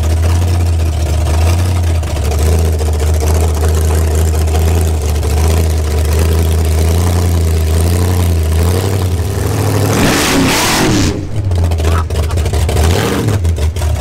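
A 1931 Ford hot rod engine rumbles loud and close with a deep, uneven idle, then rises briefly into a throaty rev before settling back.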